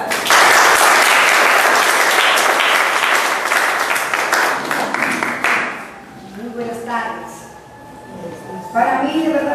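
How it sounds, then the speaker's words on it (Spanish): Audience applause at a children's literary circle gathering, a loud steady burst of clapping that fades after about six seconds as a voice begins speaking. "Un aplauso para la señora Sara"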